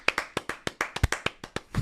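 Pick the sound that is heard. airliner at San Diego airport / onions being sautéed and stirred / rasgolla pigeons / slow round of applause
slow round of applause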